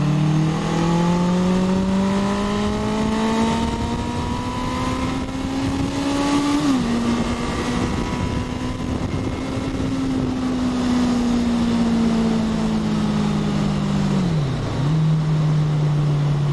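1981 Honda CB750K motorcycle climbing a hill, its engine droning loud and steady as the pitch rises through the gears, with a brief dip at each shift and strong wind rush.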